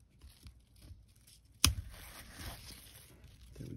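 Pruning shears make one big cut through a mulberry bonsai branch, giving a single sharp, close snap followed by faint rustling and crackling of leaves in an otherwise quiet setting.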